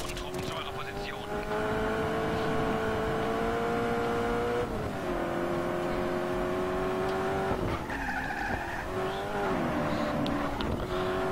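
A car in the video game Just Cause 3 drives hard with a loud, sustained engine whine that shifts pitch, plus tire skids and squeals, while someone talks over it.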